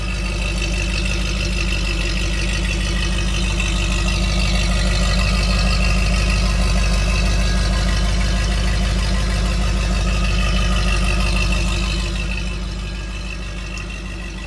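A Ford Bronco engine idles steadily and alone at close range, a low, even rumble that holds constant before easing slightly quieter near the end.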